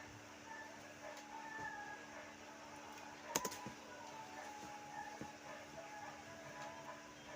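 Computer keyboard typing during DNS server configuration, with soft scattered key clicks and a short burst of sharper taps in the middle, under a low steady hum.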